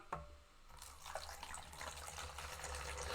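Water pours or runs from a tap into a cooking pot, a steady splashing hiss that begins with a brief clatter and holds fairly constant for about three seconds, with no talk.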